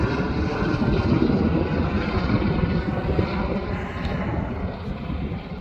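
A propeller aircraft flies over a lava field, its engine a steady, moderately loud droning roar with some wind noise that slowly fades a little toward the end.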